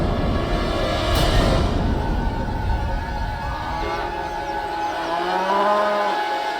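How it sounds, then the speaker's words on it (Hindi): Cows lowing in a devotional drama scene, several long drawn-out moos rising and falling over a steady ambient bed, fairly close and clear with no talking. "ये तो हमारी गौओं का रंभाने का स्वर है।"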